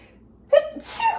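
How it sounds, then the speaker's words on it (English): A single stifled sneeze, short and fairly close, with a breathy catch before it and a soft exhale trailing after. "Trying not to sneeze again."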